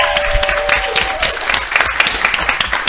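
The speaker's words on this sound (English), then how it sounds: "can I get a round of applause for our sponsor" A live crowd at a video games contest final gives a round of applause for the event sponsor: steady, close clapping with some cheering and crowd noise, alone without speech.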